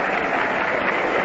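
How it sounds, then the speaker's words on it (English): A baseball stadium crowd on opening day applauds steadily as a batter walks up to the plate, a dense, even wash of clapping with no breaks. "Richly deserved the applause that Gerba gets now as he walks up to the plate."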